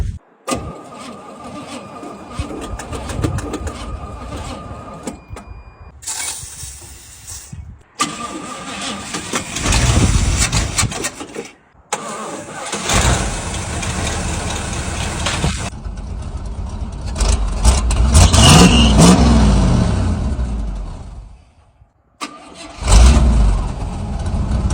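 An old abandoned GMC C7000 truck on a new carburetor cranks repeatedly in separate bursts, then fires and roars with loud revving before settling, the attempts broken by short pauses.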